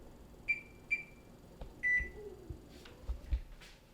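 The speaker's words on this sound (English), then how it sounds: "And I'll set my timer for 15 minutes." A kitchen oven timer beeps in short, bright electronic tones, two quick ones and a longer third, fairly close over faint background clatter.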